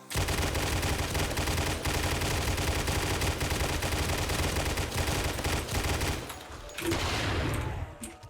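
Dense, rapid gunfire from weapons in 7 Days to Die, modded with COD Zombies perks, loud and continuous for about six seconds before a short break and a final burst.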